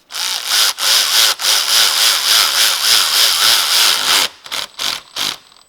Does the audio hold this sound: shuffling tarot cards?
no